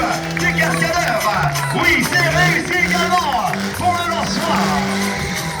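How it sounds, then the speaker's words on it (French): Monster truck skidding at a stunt show, with a steady loud engine roar and wavering tire squeals, joined by an announcer talking over the noise. "Voilà, il tente le dérapage."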